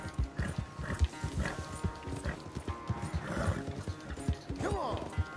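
Horse hooves clip-clop steadily at a walking rhythm in Red Dead Redemption 2, close and fairly loud, with creaking tack, a brief whinny and low ambient game sounds alongside.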